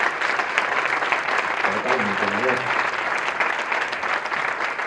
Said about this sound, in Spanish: Y yo le pido un aplauso para Manolo.